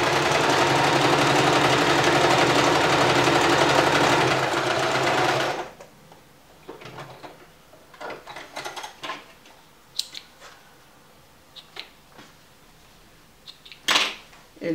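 A sewing machine runs fast and steadily for about five seconds, sewing zigzag stitches along a closed seam, then stops; scattered clicks and fabric handling follow.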